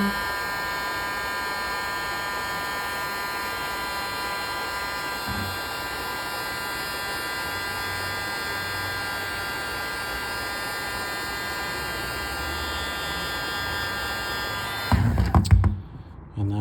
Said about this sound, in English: So I take a heat gun,